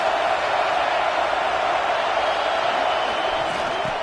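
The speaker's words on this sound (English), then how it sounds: "This crowd trying to make life miserable for this offense." Steady roar of a stadium crowd at a football game, a dense unbroken wall of noise from many voices filling the whole stretch at even loudness.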